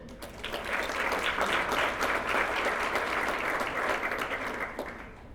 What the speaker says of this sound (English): we want to give her a round of applause just the same